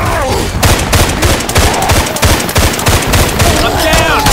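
Rapid gunfire from the video game Hard Rain: Downpour rattles at a tank, dense bursts of automatic shots and booms running continuously and loud throughout.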